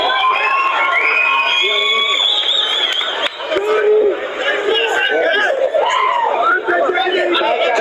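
A crowd at a fight event cheers and shouts for the new champion, the winner Johnny Jiu-Jitsu. The roar is loud and continuous, with excited voices and chatter mixed throughout and a brief dip partway through.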